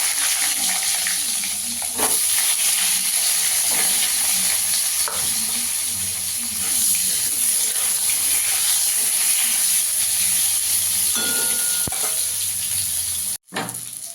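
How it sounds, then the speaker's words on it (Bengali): Eggplant frying in hot oil in a home kitchen, a steady bright sizzle and hiss held close and loud, broken by occasional stirring scrapes and a brief clatter near the end, with no talk. "এই তেলে বেগুনটা ভেজে নেব।"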